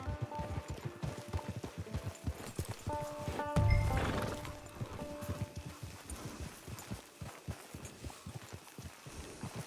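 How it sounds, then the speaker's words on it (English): A horse in the Red Dead Online video game clip-clops along in a steady rhythm of hooves, then lets out a loud, close whinny midway before the trotting continues. "Get your horse."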